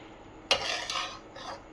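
A spoon stirs potato sheera in a metal pan after sugar is added, giving a sharp scrape followed by a few softer scraping strokes, close and clear with no voices.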